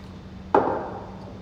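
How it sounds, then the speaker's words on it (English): One crisp pop and short fizz as a can of Tripping Animals lager is cracked open, a single sudden burst over a quiet room hum. "let's crack it open"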